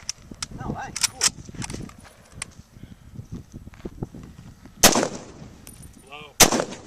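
Rifle shots ring out outdoors, a few sharp loud cracks scattered among softer clicks and handling noises, with people talking intermittently.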